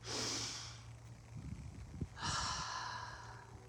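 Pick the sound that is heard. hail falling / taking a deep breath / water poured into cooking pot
taking a deep breath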